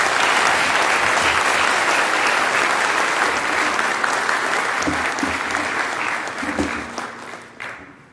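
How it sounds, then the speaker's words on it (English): Sustained audience applause fills a conference hall for a university speaker, dense and steady clapping for about seven seconds before thinning out and fading near the end. "So please give a round of applause to Ross."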